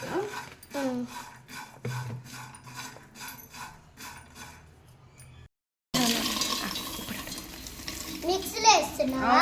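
Rhythmic scraping and stirring of green chillies in a pan gives way to a louder, steady frying sizzle, with a person speaking at moments.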